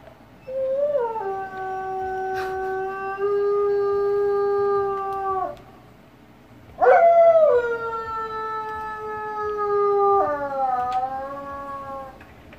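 A wolf dog howls in long, drawn-out, tonal notes with rising onsets and steady sustained pitches, three howls in a row separated by short pauses, loud and close with no other voices.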